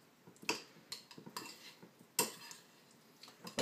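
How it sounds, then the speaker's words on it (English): A spoon clinks and scrapes in a bowl, mixing and crushing a not-very-ripe avocado with kefir into a spread, in a series of irregular taps and scrapes with quiet pauses between. "Now we use a spoon to mix it all together. And the spoon can also crush."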